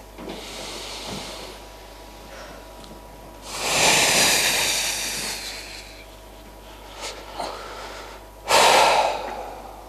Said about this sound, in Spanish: Llenamos a tope y vaciamos a tope.